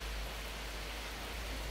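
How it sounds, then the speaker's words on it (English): Steady rain atmosphere, a dense hiss of falling rain layered as a constant texture in a dark halftime hip-hop beat, holding evenly with no talk. "I added some rain atmosphere."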